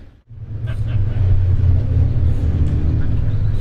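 Caterham Roadsport race cars at Croft Circuit produce a steady engine rumble and drone that swells in after a brief dip at the start and holds loud throughout.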